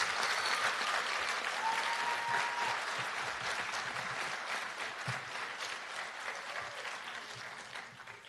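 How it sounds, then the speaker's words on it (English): A school audience applauds fourth grade students at an elementary school promotion ceremony, a steady, dense clapping from a crowd that holds for several seconds and tapers off slightly toward the end. "give all of our fourth grade students another round of applause"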